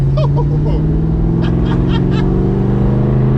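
1968 Dodge Coronet muscle car V8 running close and loud, a heavy throbbing rumble that rises in pitch as it revs, with brief voices over it.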